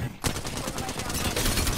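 Gunfire from a video game firefight, a dense run of close, loud shots after a short quiet start, continuing steadily to the end.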